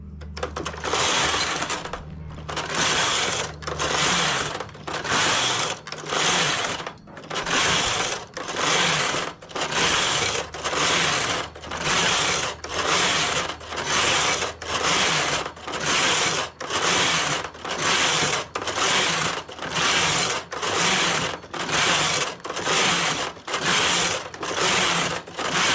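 A domestic knitting machine knits a jacquard pattern set by a punch card. The carriage sweeps back and forth in about twenty regular, loud clattering passes, each one separated by a short pause, with no speech.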